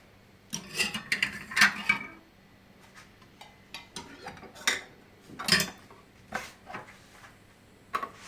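Clinks and taps of glass and metal as lids are closed on four glass jars of pickled cucumbers, a few close clattering knocks and scrapes with short pauses between them, no talking.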